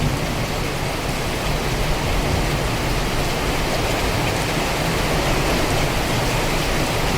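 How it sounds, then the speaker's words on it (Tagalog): Heavy rain and rising flood water roar in a dense, loud, unbroken wash that fills the whole clip, with no pauses and no voices over it. "Patuloy pa ganitong ulan,"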